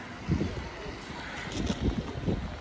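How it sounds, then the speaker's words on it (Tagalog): Gusty wind buffets the microphone in low rumbling bursts, with a broad hiss of moving air throughout. "grabe ang lakas ng hangin"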